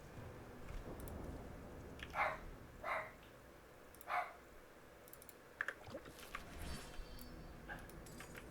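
A dog barks in a game scene set among stone walls, a few sharp yelps spaced apart over a low ambient rumble, fairly faint and without speech.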